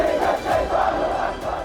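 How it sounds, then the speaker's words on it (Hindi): Pro-Palestine protesters chant slogans outside Google headquarters, a crowd of voices rising and falling in rhythmic shouted phrases, loud and continuous. "गूगल हेडक्वार्टर के बाहर फिलिस्तीन समर्थक नारेबाजी कर रहे हैं"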